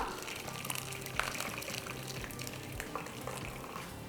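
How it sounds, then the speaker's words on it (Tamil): Curdled milk poured through a towel-lined strainer, giving a steady soft wet trickle and splatter throughout, quiet and close with no voices. "இந்த பாலை இதில் அப்படியே கொட்டிடலாம்."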